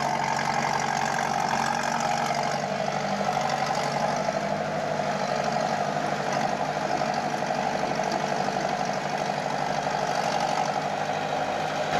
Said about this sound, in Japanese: 集積された丸太を運搬するフォワードは立ち木を集積し、急勾配の作業道を走行